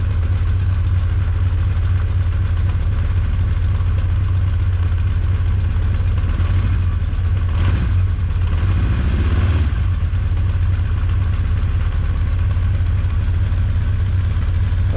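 A Honda CB 900 motorcycle engine idles steadily while warming up, a loud, constant low rumble running the whole time with a brief shift in tone near the middle and no talking.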